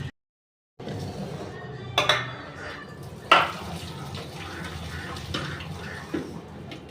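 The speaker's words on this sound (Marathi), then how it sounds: "अशा मस्त शेंगा झालेल्या आहे आता मी गाळून घेते" Water drains from pressure-cooked pigeon pea pods into a sink, making a steady pouring wash after a brief silence, with a few sharp clinks of the pot against the strainer.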